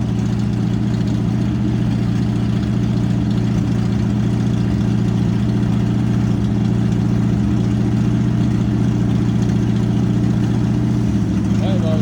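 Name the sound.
manual car engine pulling away in first gear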